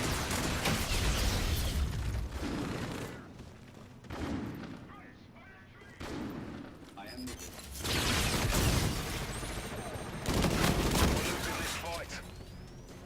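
Gunfire from a weapon in Call of Duty: Infinite Warfare, a gun similar to the H-bar, comes in dense, loud bursts that swell and fade several times. Voices are mixed in underneath.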